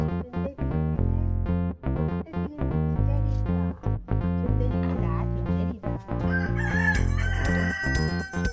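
Domestic hens and a rooster at a home in Kerala: loud nearby crowing bursts mixed with busy clucking, with little or no talk.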